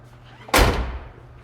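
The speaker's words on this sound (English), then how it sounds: "Show you this door closing." A single solid door slam of a restored 1969 Dodge Charger, a loud muffled thump that fades quickly, with a quiet background hum before and after.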